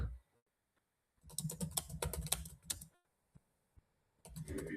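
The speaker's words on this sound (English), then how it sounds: "I'm typing in Aaron Spencer's results." Quick clattering keystrokes on a computer keyboard come in bursts with short pauses between, close and fairly soft, with a few isolated taps in the gap.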